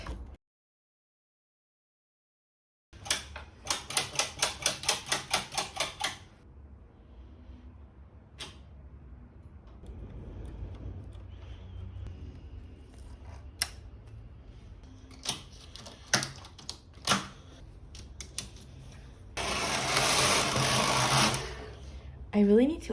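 A home sewing machine stitching fabric in rapid bursts of clattering needle strokes, stopping and starting, with handling clicks and knocks in between and one last loud run near the end; the machine is in need of oiling.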